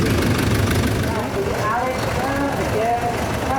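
Red vintage tractor at a rally, its engine idling with a low, steady chugging rumble while people talk nearby over the running motor.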